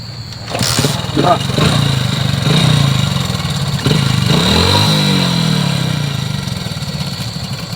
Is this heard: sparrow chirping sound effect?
no